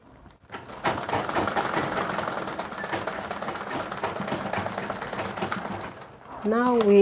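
A sewing machine hems the bottom of a shirt with a steady, close mechanical whirring that runs for several seconds, followed at the end by a brief burst of speech.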